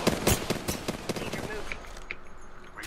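Gunfire in Apex Legends ranked play, with a burst of sharp shots in the first half that thins toward the end, running under ongoing voice chat.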